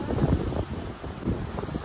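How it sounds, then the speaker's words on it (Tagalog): Strong wind at the Bangui windmills in Ilocos Norte roars steadily and buffets the microphone, a rough, continuous rush with no voices. "Sobrang hangin"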